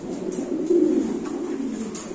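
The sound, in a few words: pigeons cooing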